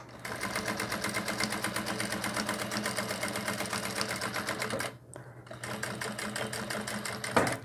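A sewing machine runs a rapid steady stitch along the top edge of a cloth doll's dress, pausing briefly before starting again, close and even.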